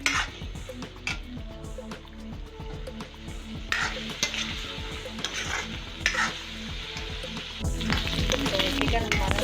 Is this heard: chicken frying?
yes